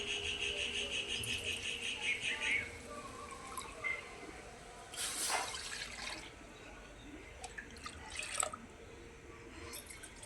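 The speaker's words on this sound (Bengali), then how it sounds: "এই বাটির 2 বাটি আমি কড়াইতে জল দিয়ে দেবো।" Water poured from a steel bowl into a wok in a home kitchen, soft splashing and trickling with a few faint clinks of metal, fairly quiet and close.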